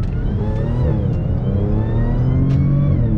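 An Audi S4 accelerating at half throttle, a loud steady engine drone with rising harmonics and a brief dip at a shift, close and continuous throughout.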